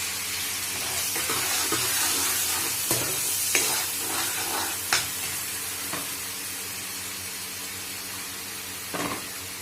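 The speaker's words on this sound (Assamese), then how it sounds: "পিঁয়াজটো ৰঙচুৱা হোৱালৈকে ভালদৰে ভাজি ল'ম।" Chopped onions fry in a pan in a steady, dense sizzle, close and continuous, with a few sharp clicks and scrapes of stirring scattered through.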